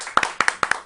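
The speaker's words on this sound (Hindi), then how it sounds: "आप लोगों की भरपूर तालियों में आए।" A few people clapping in an Urdu/Hindi studio show audience, sparse and uneven sharp hand claps in quick bursts, close and fairly loud, over a brief moment.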